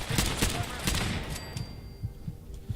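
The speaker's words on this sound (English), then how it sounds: "could you cut the minigun bullshit out?" Minigun fire in Fallout 4, a dense, rapid rattling burst of gunfire that carries on loudly before fading, with scattered combat noise trailing off.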